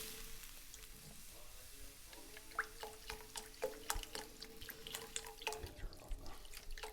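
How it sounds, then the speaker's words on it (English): Broth poured into bacon rice pilaf in a pot, giving a light, steady liquid trickle with scattered drips and small splashes over about seven seconds, close and fairly quiet. "Now we'll go ahead and add our broth."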